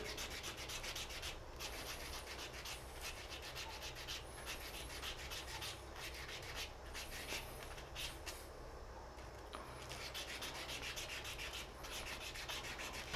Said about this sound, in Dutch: Dan ga ik nu eerst de messing soldeerstok schuren en ik rol gewoon mijn schuurpapiertje rond zo en dan zet ik dat erin en dan schuur ik hem blank.